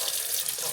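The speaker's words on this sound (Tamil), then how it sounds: "கத்தியை வந்து கவனமாக கழுவணும்" Kitchen tap water runs steadily into a sink, close and continuous, while a knife is rinsed under the stream.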